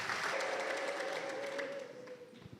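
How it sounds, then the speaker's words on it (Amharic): Church congregation clapping and ululating in praise, a warm crowd wash with one long, high, wavering trill running through it before the sound fades away. "እንደ ቆምን ለእግዚአብሔር ክብር ልልታና ጭብጨባ እናቀርባለን"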